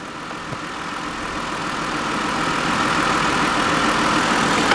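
An air conditioning unit's pumps kick on while refrigerant is being charged, a steady low mechanical hum and rumble that grows gradually louder and holds near and continuous.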